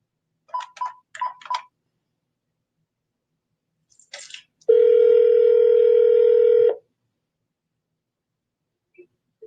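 A telephone keypad beeps out a quick series of dialing tones, then a loud, steady tone holds for about two seconds before cutting off, followed by quiet and a couple of faint clicks.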